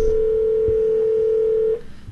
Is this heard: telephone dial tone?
yes